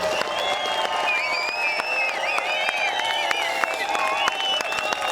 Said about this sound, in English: Can we just have a round of applause for her so I can send it to her?